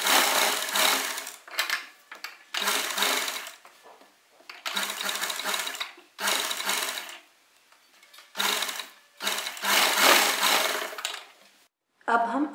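Sewing machine stitching along the neck of a kurta, running in repeated bursts of fast whirring separated by short pauses, close and loud.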